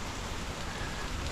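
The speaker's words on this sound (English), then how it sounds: "It's raining now." Steady rain falls outdoors after earlier freezing rain, giving a dense, even hiss of drops with no gaps, close and fairly loud.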